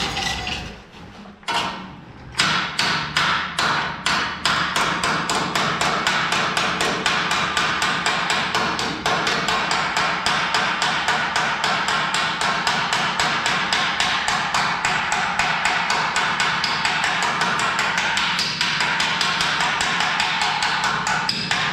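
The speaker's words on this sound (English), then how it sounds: "if you hammer at it enough, you can get it to be pretty straight" Rapid, steady hammering straightening sheet metal for a 1955 Chevy transmission tunnel and firewall, loud and close, with dense ringing blows continuing for about twenty seconds after a brief pause near the start.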